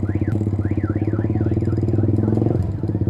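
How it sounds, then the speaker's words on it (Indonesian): Motorcycle engines idle close by in a crowded queue, a steady chugging throb, while a warbling car alarm rises and falls over them. "Wow, rame banget motor."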